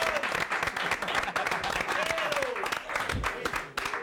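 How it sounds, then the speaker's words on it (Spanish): Studio audience on an Argentine talk show applauds a guest, Alan Parson, with dense, sustained clapping up close, while a voice or two cuts through the noise. "pido un fuerte aplauso para Alan Parson"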